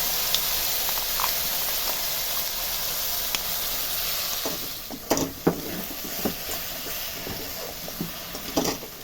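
Spice paste frying in hot oil for a Bengali doi pabda fish curry, a steady close hiss of sizzling with scattered sharp crackles and pops growing busier toward the end, with no talking.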